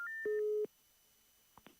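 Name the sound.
telephone busy signal on a breaking call-in line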